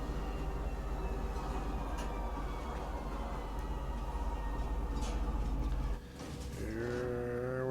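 Train in the Star Citizen game pulling into Tisa Spaceport, a loud continuous rumble with droning tonal hum that drops and shifts into rising brake-like tones as it slows to a stop.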